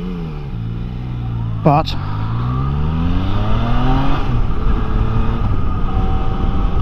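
A Yamaha Tracer 9 motorcycle pulls away, its engine note rising steadily as it accelerates, loud and close. A rider talks over it throughout.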